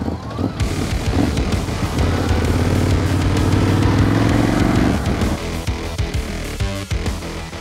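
Ducati Scrambler 1100 motorcycle being ridden, its engine droning steadily with a rising note and then easing off, wind buffeting the microphone throughout, no talking.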